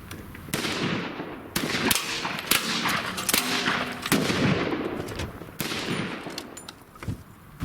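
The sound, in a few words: semi-auto PC carbine gunfire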